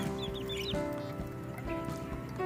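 Chickens cluck in a backyard coop while water is set out for the birds, steady soft clucks and calls over a constant background hum, with no talking.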